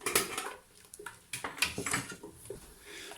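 A spoon stirs spices in a cooking pot for chorba, producing irregular close scrapes and knocks against the metal, moderately loud with uneven pauses between strokes.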